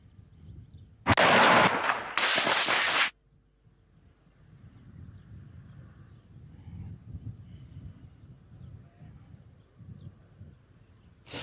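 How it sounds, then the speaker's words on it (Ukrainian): Gunfire from a residential block, two loud, harsh bursts early on with the second lasting about a second, followed by quiet low rumbling and faint background noise. "ось постріли з житлового кварталу"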